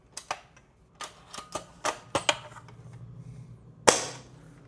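An ENC L96 bolt-action airsoft sniper rifle is handled with a series of sharp mechanical clicks and clacks, followed by a single loud snapping shot near the end.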